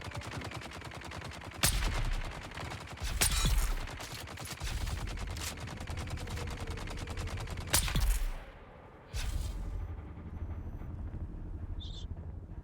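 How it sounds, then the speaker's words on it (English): Gunfire in the video game Dune Awakening, with several sharp shots and bursts spread across a steady background bed, some loud and close, and a quieter stretch near the end. "Who's over here shooting?"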